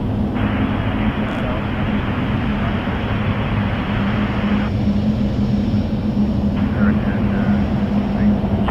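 A Boeing 777-300 airliner taxis along a narrow taxiway at Toronto Pearson airport, a loud, steady, broad jet roar that fills the scene while a person talks over it.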